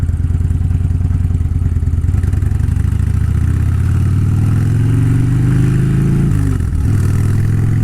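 A Harley motorcycle ridden off-road revs loud and close, its engine note climbing steadily with chugging clatter before dipping sharply near the end, with no voices.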